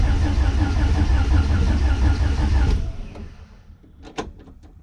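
A Honda H22 engine running on E85 fuel in cold conditions cranks with a steady rhythmic churn for nearly three seconds, then stops, leaving a few faint clicks and a small clunk.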